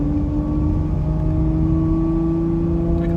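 A Lamborghini supercar engine held in first gear gives a steady, loud low drone with strong tonal harmonics, heard close up from inside the car without any clear rise in pitch.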